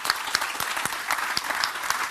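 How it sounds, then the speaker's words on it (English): A brief round of audience applause at a conference talk, steady dense clapping from a seated crowd at moderate distance, with no speech over it. "Let's give him a round of applause."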